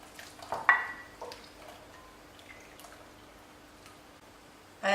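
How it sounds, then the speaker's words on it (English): Reduced turkey gravy trickles and drips through a metal strainer, a short, fairly close splash of pouring liquid early on, then faint dribbles and quiet clinks fading out. "The gravy reduced to half, so I'm going to put it through the strainer."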